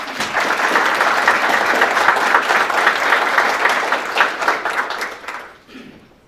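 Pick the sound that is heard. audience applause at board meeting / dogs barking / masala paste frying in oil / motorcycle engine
audience applause at board meeting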